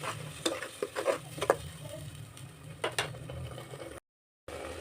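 Ground green paste goes into a hot pan for an avarekalu (field bean) pulao and is stirred, giving scraping, clattering stirring strokes over a low sizzle, with a brief break near the end.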